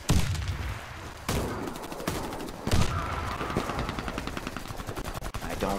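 Gunfire in the shooter game Warface rings out in loud, sharp rapid bursts, with repeated booming shots layered over continuous game noise, close and dense throughout.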